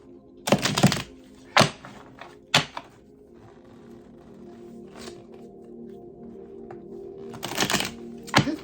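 Tarot cards are shuffled in a few sharp, brisk bursts of riffling and tapping, spaced apart with quiet pauses between and a final flurry near the end, fairly close and alone.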